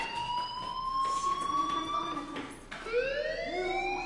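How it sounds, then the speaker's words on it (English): A fire alarm wails in Life is Strange, with rising and falling electronic tones that sweep upward, then drop and climb again, loud and close. "Hey, do you hear that fire alarm?"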